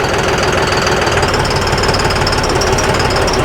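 A John Deere 5210 tractor engine runs loud and close. Its rough, knocking throb holds at a steady, unvarying pace with no voices over it.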